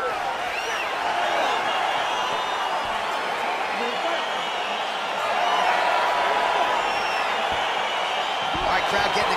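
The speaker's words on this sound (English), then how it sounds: "Crowd getting excited as this fight gets underway" Arena crowd noise from the UFC 4 video game, a steady roar of cheering and murmuring fans that swells slightly midway, with a commentator's voice running over it throughout.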